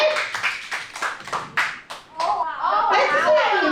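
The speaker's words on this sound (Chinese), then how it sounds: "我们要来掌声欢迎第2个小队" Audience applause welcoming a team at a theatre event, a burst of quick close hand claps that fades, then people talk and cheer.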